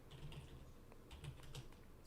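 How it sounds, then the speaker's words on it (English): Quiet clicking of keys on a computer keyboard, a short burst of uneven taps close to the microphone, with no voices. "That's a weird way of typing"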